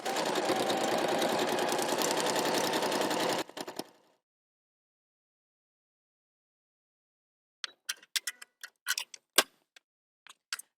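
A domestic sewing machine runs steady and fast for about three and a half seconds as it sews through a seam allowance, then stops. After a silence come scattered light clicks and taps of handling.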